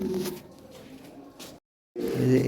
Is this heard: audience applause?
no